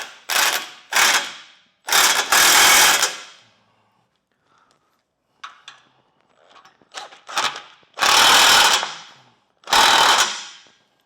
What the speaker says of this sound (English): a 1/2 inch impact, you'll be able to tighten it down